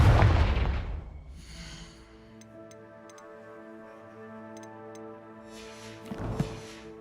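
A Confringo blasting spell exploding in the Hogwarts Legacy game: a loud burst opens, then a ringing tonal decay with faint ticking, and a second burst near the end.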